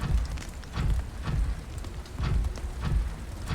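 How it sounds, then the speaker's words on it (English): Rain falls inside a cave in a video game, a steady hiss of drops with recurring low rumbling swells, moderately loud and without speech. "It is actually raining inside this cave, which is a significant bug."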